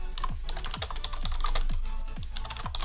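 Keystrokes on a computer keyboard as a terminal command is typed, a steady run of close, crisp clicks and taps with regular heavier key thumps, heard alone without voices.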